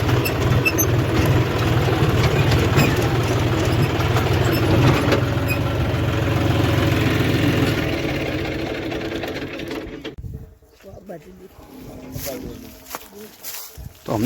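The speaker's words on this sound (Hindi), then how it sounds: "तो हमने लगा दिया हमारा ट्रैक्टर।" A John Deere tractor loaded with wood runs with a steady, loud mechanical engine drone for several seconds, then fades away into quieter ambient noise with scattered clicks and knocks.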